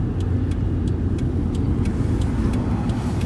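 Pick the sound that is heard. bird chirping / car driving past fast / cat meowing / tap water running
car driving past fast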